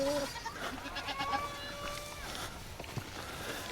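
Goats bleating on a farm during an animal feed run, a few wavering calls heard near to mid-distance amid footsteps and general yard noise, with someone talking over them.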